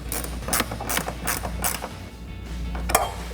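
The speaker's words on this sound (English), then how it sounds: "We're gonna thread in our bolt and then use a 10mm ratcheting wrench and tighten it down." A 10mm ratcheting wrench tightens a headlight mounting bolt on a 2014-2015 Silverado 1500, giving several short bursts of ratchet clicking in a steady back-and-forth rhythm, close up and moderately loud.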